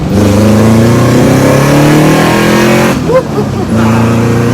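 A VW Bus with a Subaru engine conversion and custom exhaust revs, winds down, then drops in pitch downshifting into second gear, with a brief dip before the engine settles lower; close and loud.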